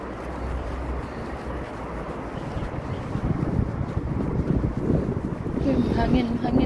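Strong wind roars and buffets the microphone steadily throughout, growing rougher toward the end, with a faint voice briefly audible near the close.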